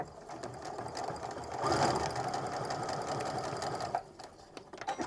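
Sewing machine stitching quilt fabric pieces together, a steady close mechanical whir running for several seconds before stopping, followed by faint handling clicks.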